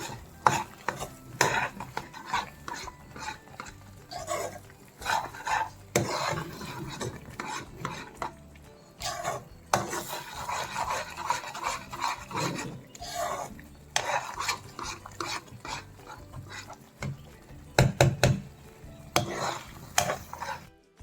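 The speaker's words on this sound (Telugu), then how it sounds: "నెయ్యి వేసుకుని బాగా కలుపుకోవాలి" A spoon stirs and scrapes thick black jamun halwa with ghee in a pan, giving repeated rasping, rubbing strokes in an uneven rhythm, close and fairly loud throughout with no talk.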